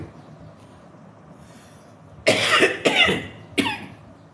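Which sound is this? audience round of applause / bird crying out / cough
cough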